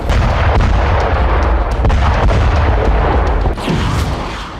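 Artillery and multiple rocket launcher fire striking power grid infrastructure and buildings in Kherson, Ukraine during the Russian assault, a continuous loud roar of booms and blasts with no pause, easing slightly toward the end.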